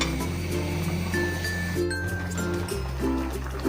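Dried peas bubble in a pot with chatpati spices, giving a soft gurgling and simmering under a steady kitchen hum with faint clinks; no one speaks.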